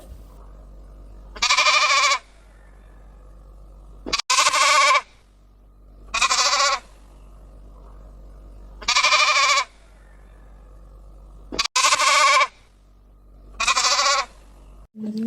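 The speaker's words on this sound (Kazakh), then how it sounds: "Бұл қой. Қой маңырайды." A sheep bleats six times, each call long and loud with a wavering tone, separated by quiet gaps over a faint low hum.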